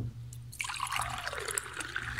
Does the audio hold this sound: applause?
no